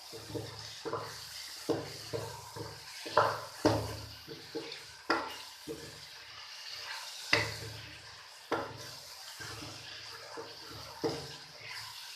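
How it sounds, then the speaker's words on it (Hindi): Chilli powder and turmeric being mixed and fried in a pan, heard as close, rhythmic stirring scrapes with a soft sizzle and moist shuffling between strokes, and no talk over it. "अब मैं इन मसालों को मिक्स कर लूँगी और अच्छी तरह से भून लूँगी"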